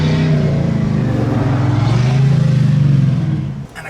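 Bullnose Ford F150 pickup with a warmed-up engine idling steadily close by, a low, even rumble with a faint rhythmic pulse that holds for several seconds before easing off at the end; no talking.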